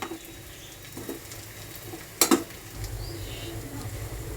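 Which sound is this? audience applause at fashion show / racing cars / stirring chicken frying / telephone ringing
stirring chicken frying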